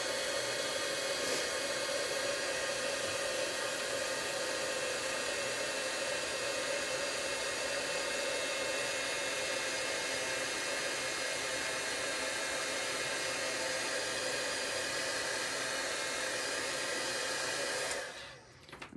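A heat embossing tool blows hot air over white embossing powder in a steady, loud, continuous whoosh lasting nearly the whole time, then cuts off abruptly near the end.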